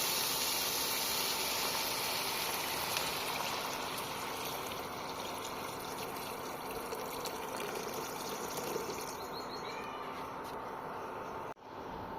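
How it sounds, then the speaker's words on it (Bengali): Water pours steadily into a cooking pot of salted, turmeric-seasoned curry, a continuous close rushing stream with no pauses, ending in a brief clunk. "এবার জল দিয়ে দেবো"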